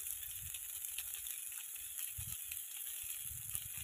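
Mixed vegetables and raw green banana fry in a pan with a faint, steady sizzle, broken by soft low thumps and scrapes as they are stirred.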